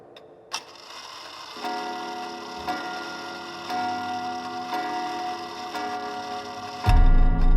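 Old clock ticking in an even, steady rhythm, close and clear, with mechanical clicks in a quiet room before a louder thump near the end.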